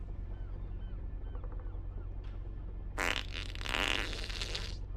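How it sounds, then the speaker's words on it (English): A loud, drawn-out fart breaks a quiet room, a single rasping burst lasting about two seconds and stretching toward the end, heard alone. "Just a liberating fart, meant to sweep away worries and frustrations, resonates through the silence"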